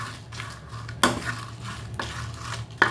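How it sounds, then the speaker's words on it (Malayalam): Dried red chillies roast in a pan while a utensil stirs and scrapes them, giving soft continuous scraping with a few sharper clinks against the metal. "ഞാൻ തൽക്കാലത്തേക്ക് മുളക് മാത്രമേ വറുക്കുന്നുള്ളൂ കേട്ടോ"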